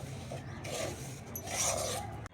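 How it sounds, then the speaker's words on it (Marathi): Semolina being stirred into sugar syrup for besan barfi, a steady close scraping and rubbing of a spoon against the pan, with no voices over it. "चांगला हलवून घेऊ आता आपण."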